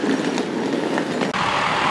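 Train unit 158823 arriving at a station, a loud close rumbling rush of the passing diesel unit with a steady roar that shifts slightly near the end.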